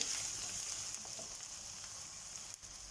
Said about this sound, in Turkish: Salçamla da bir güzel kavuruyorum